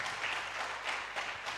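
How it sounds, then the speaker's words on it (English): Audience at an urban planning conference applauding as a company president walks on stage, a steady, even wash of many hands clapping at a moderate distance for under two seconds. "please give him a warm round of applause"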